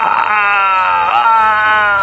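A loud, sustained scream from a garden in a Hindi ghost story, with a wavering pitch and a moaning edge, continuing alone without a break.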